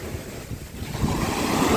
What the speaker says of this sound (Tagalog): may malaking alon sa laot kasi dumarating pa siya dito hanggang, hanggang dito sa isla